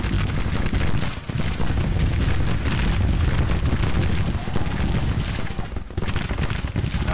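Cannon and musket fire rolls on continuously in Grand Tactician: The Civil War, dense booms and crackling volleys layered into a loud, unbroken battle din with heavy low rumble throughout.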